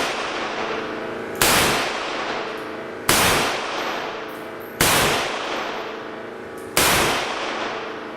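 Five sharp gunshots from a Nagant M1895 revolver with a heavy trigger, fired on a shooting range, evenly spaced about one and a half to two seconds apart, each loud crack trailing off in a ringing decay.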